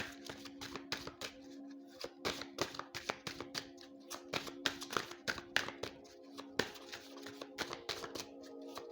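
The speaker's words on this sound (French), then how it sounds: "le temps de battre les cartes pour former les tas" Tarot cards being shuffled by hand, a rapid series of crisp riffling and tapping bursts repeating steadily, close and fairly quiet with no talking.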